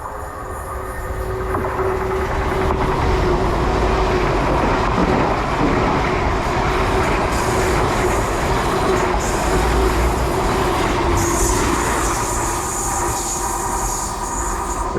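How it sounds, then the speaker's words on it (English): A Penzance to London Paddington passenger train, unit 800 301, passes through Menheniot on a curve in Cornwall, a loud sustained rumble of wheels and carriages with faint squealing, filling the whole stretch without talk. "passing through now is the service from Penzance to London Paddington"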